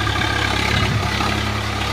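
A Swaraj 742 FE tractor engine runs steadily with a rotavator attached in a field, a loud, continuous low rumble with no pauses throughout.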